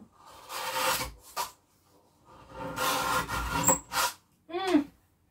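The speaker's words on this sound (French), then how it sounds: "Ça a grincé. Ça a grincé." Grating squeaks and rubbing from crafting Pokémon cards with a laminator, coming in several separate bursts with short pauses between them, the last a sharp rising squeal, close and fairly loud.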